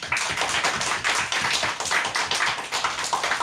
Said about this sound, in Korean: 주님 앞에 박수 한번 해요.